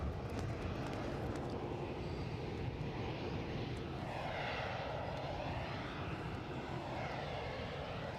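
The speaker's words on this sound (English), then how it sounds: "one Aer Lingus out, one Aer Lingus coming in" An Aer Lingus airliner takes off at Edinburgh Airport, its jet engines making a loud, continuous roar with a sweeping tonal shift as it passes, and no voices over it.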